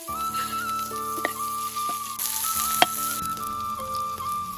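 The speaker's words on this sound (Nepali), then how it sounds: "मैले अलिकति जिरा र धनियाँ फ्राई गर्दैछु।" Cumin and coriander fry in hot oil for a gravy, giving a dense, continuous sizzle close by with a few faint clinks and a thin steady whistle behind it, with no voices.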